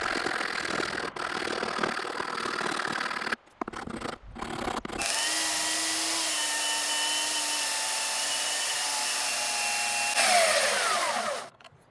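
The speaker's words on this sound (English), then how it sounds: "I'm gonna take this rasp to it" A wood rasp shaping a red oak revolver grip gives a continuous, close, steady rasping scrape with a brief break early on, then a long unbroken stretch of grinding texture.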